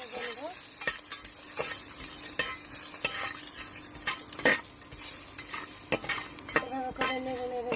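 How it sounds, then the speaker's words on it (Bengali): Pumpkin seeds frying in a pan with turmeric while being stirred: a steady sizzle carries through, broken by regular scraping strokes of the spoon against the pan, close and continuous with no voices. "তো বিচিগুলো আমি ভালো করে ভেজে নেব।"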